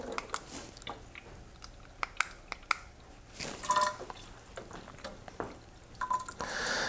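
Water from a reverse osmosis system runs into a measuring beaker with millimeter markings, making soft uneven trickling and dripping with scattered small splashes and clicks, close and fairly quiet, with no voices.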